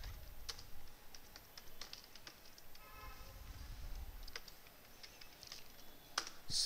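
Quiet typing of C code on a computer keyboard, scattered soft key clicks at an irregular pace over a low background hum.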